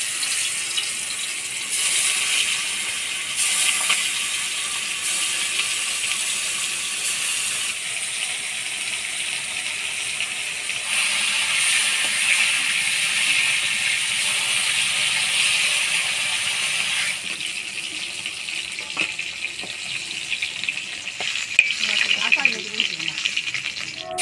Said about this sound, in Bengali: আলুটা ভেজে নিলাম, এবার মাছগুলো ভেজে নেব।